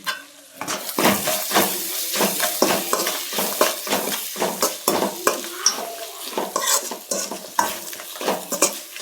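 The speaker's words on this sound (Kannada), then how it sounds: "ಇದು ಒಂದು ಸ್ವಲ್ಪ ಫ್ರೈ ಆದರೆ ಸಾಕು." Grated raw mango being fried in a pan for chitranna, with repeated scraping stirs of a spatula against the pan over a soft sizzle, rhythmic and close, without talk.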